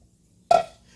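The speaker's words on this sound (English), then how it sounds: "In goes my water." Warm water at about 98 degrees poured into a bowl of sourdough English muffin mix, a single short splashy pour starting midway and tailing off quickly, fairly close and alone.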